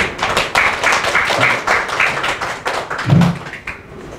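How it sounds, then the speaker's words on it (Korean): Audience at an academic photography symposium applauds to welcome a speaker; steady crowded clapping runs throughout, fairly loud and close, with a brief low thump near the end. "박수로"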